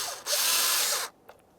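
Power driver spinning a mounting screw into a 2008-2017 Mitsubishi Lancer wiper switch: one short, steady high whir under a second long, then a faint click after it stops.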